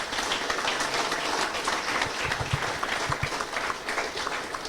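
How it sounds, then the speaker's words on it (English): At the close of an MIT panel discussion, the audience claps for the panelists: a moderate room's worth of continuous applause, fairly close, holding steady to the end with a few sharper individual claps. "can I get a round of applause for our panelists?"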